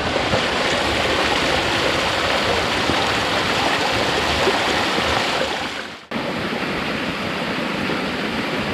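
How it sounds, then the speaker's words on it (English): Water from a waterfall rushes through a log spout, splashing in a steady, dense spray at a tea house in Artvin, Turkey, continuous and close, with a brief dip before the flow resumes. "It's a stick that's tapping water from the waterfall behind the bushes there"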